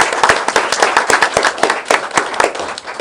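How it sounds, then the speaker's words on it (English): Applause at a town council meeting: sharp, distinct hand claps from a modest group, close and fairly loud, rattling irregularly for a few seconds with no talking. "I want everybody to give Lee Scott a round of applause"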